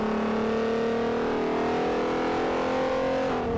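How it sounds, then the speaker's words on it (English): An Alfa Romeo race car engine in Forza Motorsport 4 roars steadily at high revs, its tone sustained with slight pitch shifts, loud and continuous throughout. "Oh, this is such a good sounding engine."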